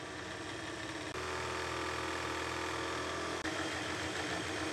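Generator tester spinning a generator at about 2100 rpm engine idle speed, a loud, steady mechanical hum and whir that runs continuously, with two brief dips.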